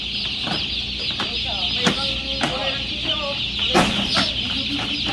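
Broiler chickens on a Taiwan poultry farm cluck and squawk steadily, with a dense, busy chatter of birds close by and repeated sharp knocks and thuds as chicks are tossed about. People talk over the noise.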